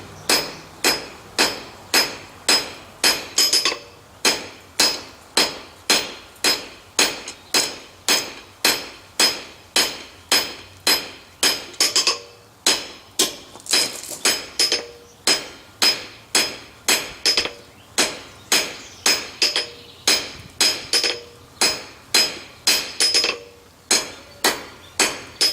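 Hammer forging down a steel tenon for a sign bracket, a long brisk series of bright, ringing blows on hot steel at close range, steady rhythm with a couple of short pauses, no voices.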